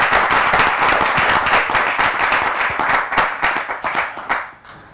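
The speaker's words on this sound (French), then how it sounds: "On peut applaudir pour lui là" An audience gives loud, full applause to a performer after a musical piece. Dense clapping carries for several seconds, then breaks into a few separate claps as it winds down.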